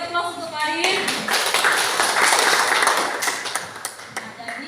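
A classroom of students bursts into clapping for about three seconds, loud and close, after a teacher's voice, then the applause fades into scattered taps.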